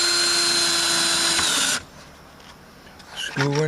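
A power drill drives screws in a very small workshop, whining steadily and loudly before cutting out into quiet, then a brief higher-pitched whir at the end.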